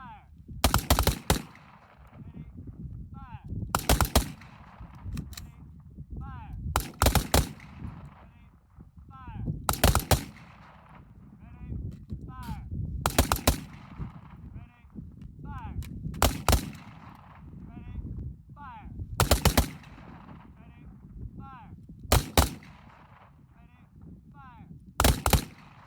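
AR-15 rifle gunfire during shooting drills, sharp loud bursts of several rapid shots repeating at regular intervals, with short spoken commands and voices between the volleys.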